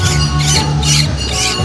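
Black kacer (magpie-robin) songbird giving loud, harsh repeated calls in four bursts, close and alone against a steady low hum.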